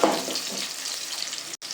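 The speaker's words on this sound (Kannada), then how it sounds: "ಆ್ಯಡ್ ಮಾಡಿಕೊಂಡು ಈರುಳ್ಳಿ ಟ್ರಾನ್ಸ್ಪರೆಂಟ್ ಆಗೋವರೆಗೂ ನಾವು ಇದನ್ನು ಫ್ರೈ ಮಾಡ್ಕೋಬೇಕು" Chopped onions fry in a pan for menthya bath, giving a brief, dense crackling sizzle with soft stirring scrapes throughout.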